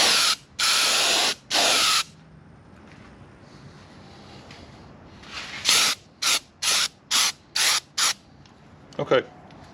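A spray finish goes onto a hand-routed wooden Valentine love sign in bursts: three longer hissing sprays, a quiet pause, then six short, quick spurts close to the microphone.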